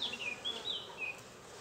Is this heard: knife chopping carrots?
no